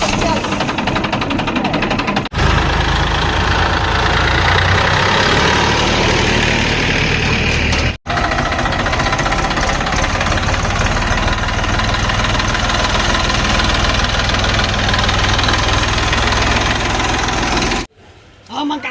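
A tractor engine idles loudly and steadily nearby with a low rumbling drone for most of the stretch, cutting out briefly twice.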